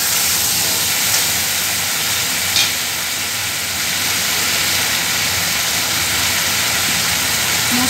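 Spices stir-frying in a pan over a stove for a summer home-cooked dish, giving a steady, dense sizzle and hiss that runs unbroken and fairly loud throughout, with no talking.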